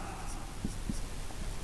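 A pen writing out a matrix by hand, heard as faint scratchy strokes with a couple of soft taps over a steady low background hum.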